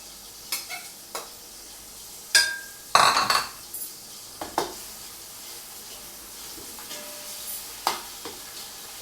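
Paste of garlic, ginger and green chilli frying in a pot, a soft low sizzle broken by sharp spoon scrapes and clinks against the metal at irregular intervals, close by and without talk.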